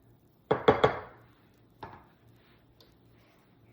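A spatula clacks and scrapes against a pancake pan in a quick burst of three sharp knocks, then a single later tap and a faint tick, close and otherwise quiet.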